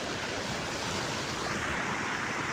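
Water from a rain-swollen village lake pours steadily over a stone sluice, a broad continuous rushing roar, close and even throughout with no voices.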